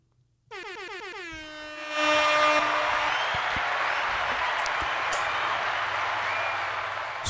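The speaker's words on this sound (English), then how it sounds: "Round of applause for her." A loud air horn blares at the start of an introduction for the speaker's daughter, then a steady roar of crowd applause and cheering builds and carries on until the end.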